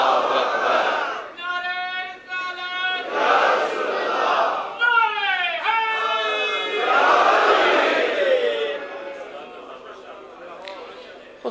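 At a religious gathering, a crowd shouts slogan responses in bursts that swell and fade, alternating with a single voice calling out in rising, drawn-out tones.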